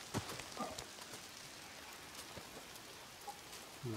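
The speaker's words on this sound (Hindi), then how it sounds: "बारिश मुसलसल हो रही है" Continuous rain falls in the video game Days Gone, a soft hiss with scattered patter of drops, faint and steady, no voices over it.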